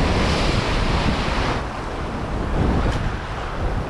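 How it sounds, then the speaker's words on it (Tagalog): Ocean waves break and wash against a rocky shore in Palawan, a steady roar of surf with wind noise across the microphone. "Yan na naman yung alon."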